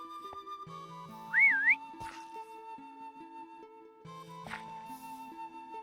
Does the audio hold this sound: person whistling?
yes